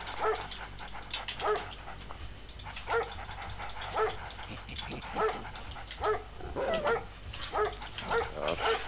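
Attack dogs in the real-time strategy game Command and Conquer Red Alert 2 bark and whimper in a rapid, regular series of short yelps, fairly close and steady over faint game background.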